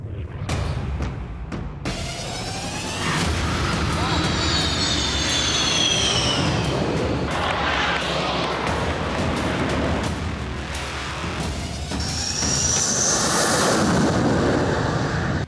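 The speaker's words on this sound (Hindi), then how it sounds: "देश का सबसे खतरनाक फाइटर प्लेन सुखोई 30 MKI पहली बार किसी हाईवे पर उतरा।" Sukhoi 30 MKI fighter jets fly low over an expressway, with loud roaring passes and rising and falling jet whines that swell and fade, plus sharp cracks near the start.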